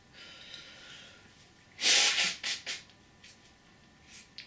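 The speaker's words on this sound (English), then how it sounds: "I shall have to blow my nose." A woman blows her nose during a recorded conversation, a loud, close honking blast followed by two shorter snorts and a few faint sniffs over quiet room hiss.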